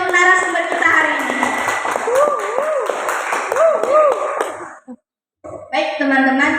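An audience applauds a guest speaker at a student book review event, a steady wash of clapping from many hands that fades into a brief silence and then resumes, with someone speaking over it.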